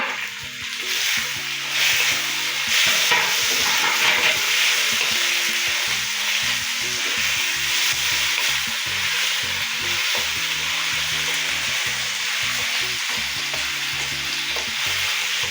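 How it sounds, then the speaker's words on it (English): Onions and tomatoes sauté in oil while being stirred, a steady bright sizzle running throughout with repeated scraping stir strokes of a spatula against the pan, close and fairly loud, no voices. "I add in tomatoes. I stir well to combine."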